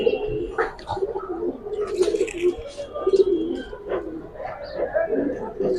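Giribaz pigeons coo in low, throaty rolling bursts close by, repeating throughout while someone talks over them and a few higher chirps break in.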